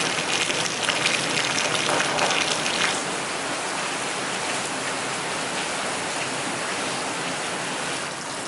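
Heavy rainstorm pouring over a farm in Chiang Rai, Thailand: a dense, steady hiss of rain on surfaces, slightly louder for the first three seconds, then a continuous loud wash with no voices.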